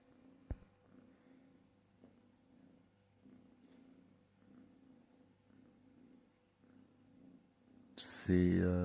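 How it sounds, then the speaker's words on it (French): A cat's soft, rhythmic low purr pulses close by for several seconds, followed by a sudden loud voice at the end. "C'est Félix qui ronronne quand."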